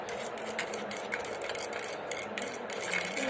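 Red paint stirred and mixed in a container, with a continuous scraping and clinking of the mixing tool close by, steady and fairly quiet throughout.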